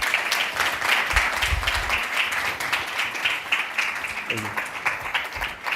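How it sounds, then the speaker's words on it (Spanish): Audience applause for a speaker at a talk on music, art and freedom, a steady dense round of clapping filling the room, with a brief murmur of voices near the end. "Un aplauso para él."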